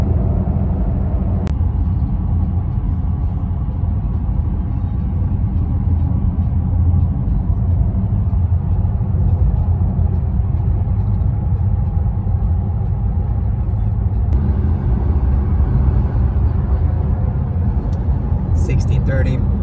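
Steady low road rumble and tire noise inside a Porsche Taycan Turbo electric car on the move, a constant even hum with no engine note across the whole stretch.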